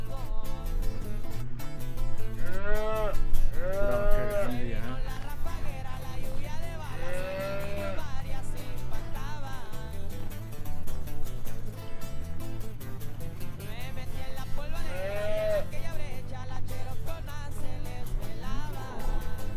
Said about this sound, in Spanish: Ahí están las vaquitas, mire.